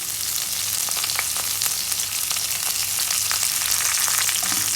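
Ginger, garlic and curry leaves sauté in a pan with a loud, continuous close sizzle dotted with quick crackles and spits.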